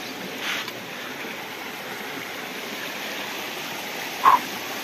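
Water rushes steadily from a waterfall and stream in the Brazilian sertão backcountry, a constant soft broadband wash with no voices and one brief splash-like bump near the end.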